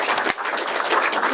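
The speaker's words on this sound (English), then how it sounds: "Give them a round of applause" Wedding guests break into a dense round of applause, many hands clapping together loudly and continuously with a brief dip partway through, no voices rising above it.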